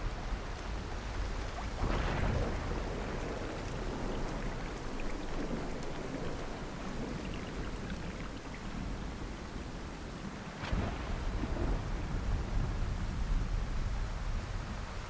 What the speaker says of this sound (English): Ooh, it's raining real heavy.